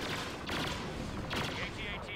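Blaster gunfire crackles in a Star Wars Battlefront Walker Assault match on Tatooine, with a couple of short, faint bursts of shots over a constant background of game noise.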